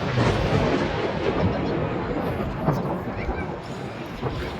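A violent thunderstorm rages during a cloudburst, with a dense, loud, steady roar of heavy rain and wind. Thunder rumbles through it, and someone speaks over the storm.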